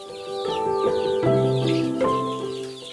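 Parent-stock hens in a farm coop cluck continuously and fairly loudly, several birds overlapping in a dense, steady chorus without speech.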